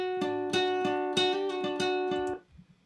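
Electric guitar plays a clean, chimey arpeggiated figure through a stock-setting Ableton Hybrid Reverb convolution reverb, with about eight plucked notes in steady rhythm, close and clear, leaving a short reverberant tail after the last note.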